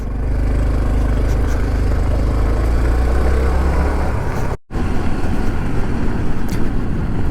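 A Honda Trail CT125 ride on a gravel forest road brings loud continuous engine drone with labouring low hum and wind and road roar, one abrupt brief dropout near the middle before the engine noise resumes.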